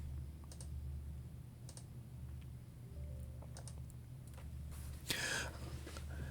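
Sparse keystrokes on a computer keyboard over a low, constant machine hum, a few isolated clicks and short bursts spread across a few seconds, close and fairly quiet.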